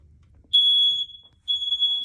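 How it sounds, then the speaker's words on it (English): A smoke-style fire alarm being tested in a lab gives two loud, shrill electronic beeps, each lasting about half a second, separated by a short pause, with no talking. "And then I have like my fire extinguisher and then the fire alarm, which I did verify, but it says you want me to test it."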